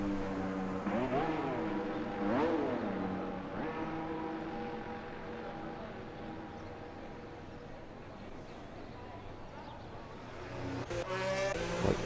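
Race cars in a Brazilian Grand Prix racing game pull out of the pits, engines rising and falling in pitch as they rev, with a bank of humming engine tone and fresh revving near the end.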